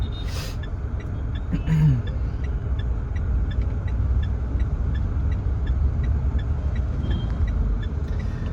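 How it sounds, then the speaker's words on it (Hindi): A Mitsubishi Pajero Sport 4x4 SUV with an auto clutch revs its engine in first gear, a steady close low rumble running throughout with light road noise and a brief faint high whoosh early on. "अभी भी बेसिकली मैं फर्स्ट गियर पे ही रेफ कर रहा हूँ"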